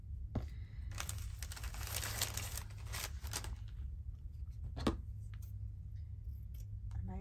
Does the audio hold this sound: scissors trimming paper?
yes